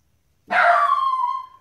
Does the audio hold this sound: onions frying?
no